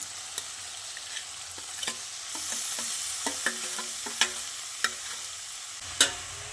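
Tomato, potato and cabbage frying in a pan and stirred with a utensil, a steady sizzle broken by irregular scraping clicks that grow louder toward the end, with no voices.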